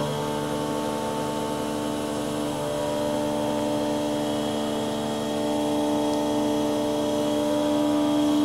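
A Haas VF3 CNC mill with a rebuilt spindle runs light test cuts with a 10mm cutter, a steady machine hum and whine holding even throughout with no speech.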